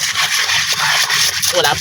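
Continuous brisk scrubbing of a cooking pot with a brush, without soap, at the seashore, a harsh rasping scrape repeating rapidly and close by, with a voice speaking underneath.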